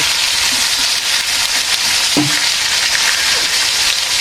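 Steady, loud sizzling of eggplant frying in oil in a village kitchen pan alongside rohu fish and potato curry, a continuous hiss with a couple of faint stirring knocks.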